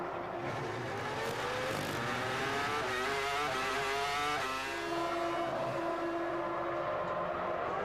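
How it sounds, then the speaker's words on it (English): A Formula 1 car at the 2002 Canadian Grand Prix dives into the pit lane, its high-pitched engine note sweeping and shifting down as it slows, loud and continuous with crowd and track ambience behind. "It is Barrichello from the race lead, diving into the pit lane now."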